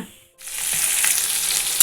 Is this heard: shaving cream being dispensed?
no